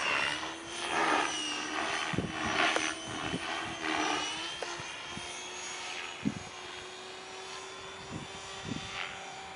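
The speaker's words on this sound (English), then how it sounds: "It just takes the shortest route to bring the helicopter back into its upright position." An HC3-SX radio-controlled model helicopter performs a bailout manoeuvre outdoors, its rotor whine and steady engine hum droning continuously with whooshing surges and brief gusts as it rights itself.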